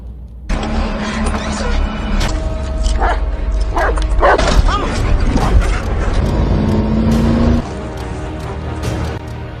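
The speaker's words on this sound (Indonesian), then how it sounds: "Anjing milik Sam mulai menyadari kehadiran Moses dan Adela" A dog barks and yips repeatedly in the desert, loud and close, with whimpering tones among the barks and a steady engine-like rumble underneath.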